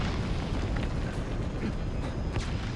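A dense, roaring rumble from mortar fire and explosions in Metal Gear Solid 5 during a tank battle, loud and sustained with no clear gaps, heavy low-end blast noise throughout.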